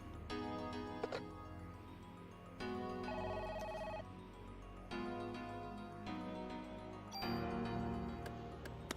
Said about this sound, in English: Oh, there's a phone.